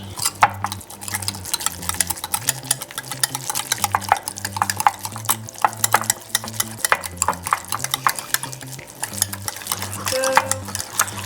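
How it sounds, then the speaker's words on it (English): Whisking pumpkin pie filling for dogs in a bowl, a steady rapid scraping and clinking of the whisk against the sides, close and continuous, with a low hum running underneath. "I'm gonna mix all of this together. Might be easier to whisk it."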